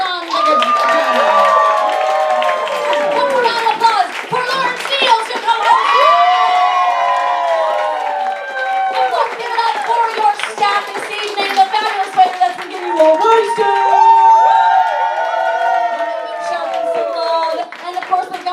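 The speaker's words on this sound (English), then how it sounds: "One more round of applause for David Ciccone." Audience at a New York cosplay cabaret night applauding and cheering, with strong, steady clapping and shouts mixed with loud whooping voices throughout.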